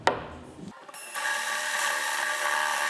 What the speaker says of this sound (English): we're basically going to drill it to depth where this is flush with the top